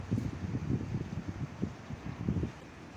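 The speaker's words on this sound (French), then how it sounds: "alors excusez-moi du vent." Wind buffets an outdoor microphone, producing a steady low rumbling roar with uneven gusty thumps throughout and no other clear sounds.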